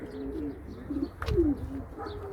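Pigeons coo softly nearby, giving a couple of low rolling calls within a short quiet stretch.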